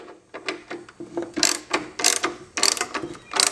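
A hand ratchet tightens bolts on a vehicle backrest bracket, giving quick bursts of sharp, close clicking in an uneven rhythm with short pauses between strokes.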